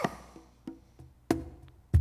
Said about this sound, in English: Here's conga.